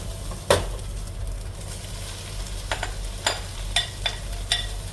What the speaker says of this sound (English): so once that's done, you'll add your shallots.